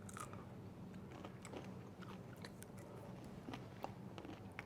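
Close, crisp crunching as a thin baked polenta chip is bitten and chewed, with small crackles scattered across a few seconds.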